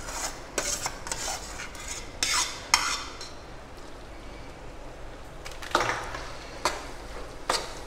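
Vegetables for pav bhaji being stirred and mixed in a pan, with repeated metal spatula scrapes and clanks against the pan over a low background, fairly close and without talk.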